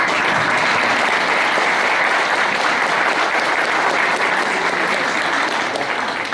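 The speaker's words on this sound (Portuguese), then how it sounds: "E esses aplausos são para vocês também" A lecture hall audience at a law talk applauds, a thick unbroken clatter of many hands that stays level and fairly loud for several seconds.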